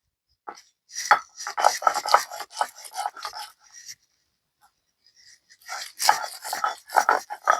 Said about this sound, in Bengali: আমি এখন শিলপাটাতে পিষে দেখাচ্ছি আপনাদের